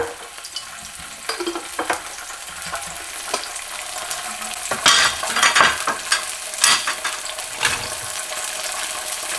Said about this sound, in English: Kind of start mixing that around so it cooks